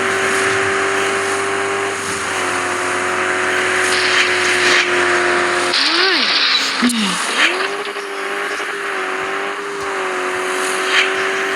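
A BMW engine revs hard and holds a high, steady drone as the car races along, with pitch swooping down and back up through gear changes, recorded close from inside the car while someone talks over it.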